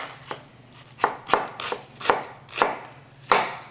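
A knife chops through a whole onion on a board in about seven crisp, close strokes at an uneven pace, with a faint low hum behind and no talking.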